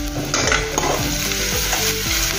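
Onions with a pinch of asafoetida fry for mooli matar sabzi over a high flame, giving a loud, close, continuous sizzle with scraping stirs and an underlying low hum.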